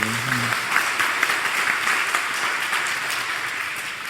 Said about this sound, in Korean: 우리 하늘소리 찬양대 위에 다시 한번 격려의 박수, 사랑의 박수